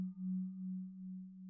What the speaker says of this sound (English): me whacking my insulated water bottle